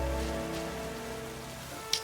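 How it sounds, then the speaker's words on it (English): Steady rain patters down in Pokemon Legends: Z-A, a dense even hiss of drops with a low hum beneath, holding level for two seconds before a brief sharp tick near the end. "Oh, it's raining."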